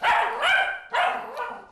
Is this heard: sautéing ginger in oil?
no